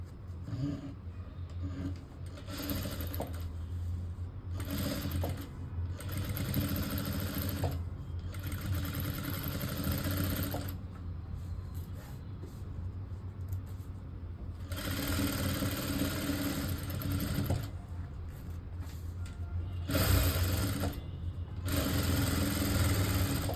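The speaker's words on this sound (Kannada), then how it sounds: "ಇಲ್ಲಿಗೆ ಒಂದು ಸ್ಟಿಚನ್ನು ಹಾಕೊಬೇಕಾಗುತ್ತೆ" Sewing machine stitching a lined blouse sleeve, its needle and motor running in several close, steady bursts of varying length separated by brief stops, with no voices.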